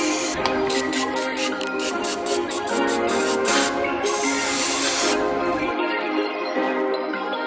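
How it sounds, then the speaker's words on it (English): Carb cleaner sprayed onto the throttle body of a 2007 Lexus IS 350 with about 160,000 miles, a series of quick close hissing bursts followed by a longer steady spray before it stops abruptly. "make sure everything here is clean with some carb cleaner and put it back in"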